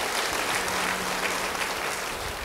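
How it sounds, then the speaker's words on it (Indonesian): A church congregation applauding, dense steady clapping that fills the whole moment, loud and close with no pauses. "Yang setuju beri tepuk tangan bagi dia."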